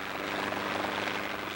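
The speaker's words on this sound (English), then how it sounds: "the helicopter goes searching for more white rhino" Helicopter flying during a white rhino search, a steady close rotor drone with a throbbing beat holding even for the whole short stretch, no voices.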